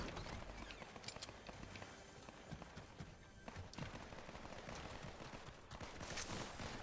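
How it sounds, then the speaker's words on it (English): Gunfire from a Fortnite match, a dense clatter of rapid shots and bursts running steadily throughout, some sharper cracks standing out above a constant busy background. "I'm hearing a lot of shooting going on"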